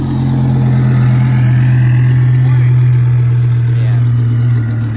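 Lamborghini cars at a rally, including a twin turbo Huracan with its rear bumper deleted, make a loud, steady, deep engine drone close by for the whole stretch, with a slight rise and fall in pitch.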